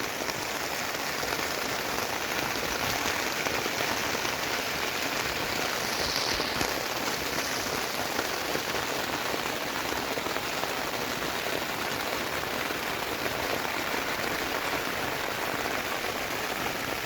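Heavy rain falls steadily on Newfoundland's west coast, a dense, continuous hiss of drops on surfaces that stays loud and even throughout, with no voices.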